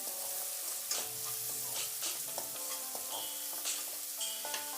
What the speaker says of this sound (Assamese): নহৰু আদা বটা দিয়াৰ পিছতো আমি এইখিনি ভালকৈ ভাজিম